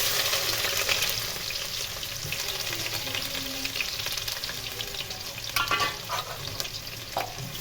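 Onion frying in a pan with fenugreek seeds, a continuous crackling sizzle with intermittent stirring scrapes and a few louder clattering strokes later on, no voices.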